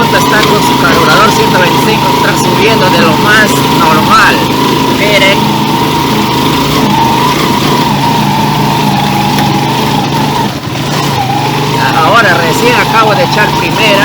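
A 150cc motorcycle fitted with a 125 carburetor climbs a steep hill, its engine droning loudly and steadily close up, with rider talk over the running motor.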